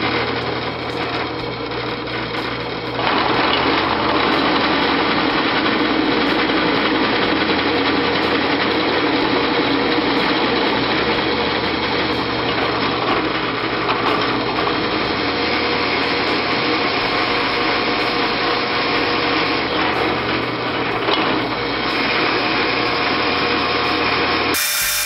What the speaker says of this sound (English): I'm going to finish drilling the cross hole